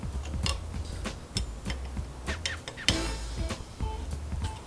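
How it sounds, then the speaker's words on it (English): Hand tightening of bolts on a Trail-A-Bike with a 5mm Allen wrench, heard as soft irregular ticking and creaking clicks, close by, with one sharper click near the middle. "Just gonna snug these up real good using our 5mm Allen wrench."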